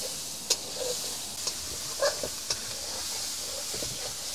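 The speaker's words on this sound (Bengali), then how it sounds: "আগে হচ্ছে চিংড়ি মাছটাকে আমরা একটু কষাবো এর সাথে।" Prawns frying in masala over a fire in the Sundarban forest, a faint steady hiss broken by a few sharp crackles and pops, with no voices.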